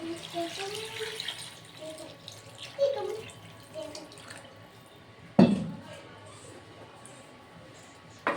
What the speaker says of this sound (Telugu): ఇందులో ఉన్న చింతపండును మొత్తం తీసేసి ఈ వాటర్ అనేది పోసుకుంటాను